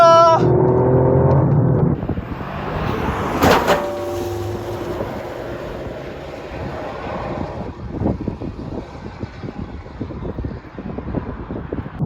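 Toyota GR Yaris driving on a winding road, with a steady close engine and road rumble, a sharp clunk over a crest, and talk in the cabin.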